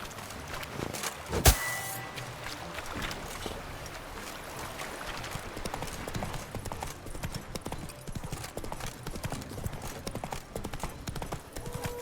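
A horse's hooves in the video game The Witcher 3 clip-clop at a steady pace over a quiet background, with a sharp knock near the start.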